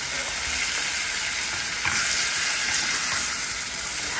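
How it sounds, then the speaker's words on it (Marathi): Prawns sizzling in a Konkani spice tempering with Konkani red chilli powder, a steady bright hiss and crackle of hot oil close up, with occasional stirring scrapes and no voices. "कोळंबी स्वच्छ धुवून घेतली त्यांनी आणि मग फोडणीमध्ये टाकली आहे"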